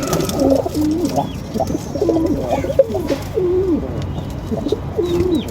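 Several pigeons coo repeatedly nearby in a loft, soft throaty calls overlapping in a loose rhythm, with faint rustling in the background.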